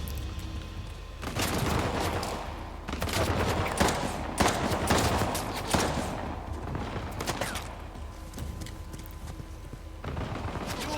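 Sustained gunfire in Uncharted: The Lost Legacy, with dense bursts of rapid shots and automatic fire coming in waves with brief lulls. It stays loud and busy across the whole stretch, with no talking over it.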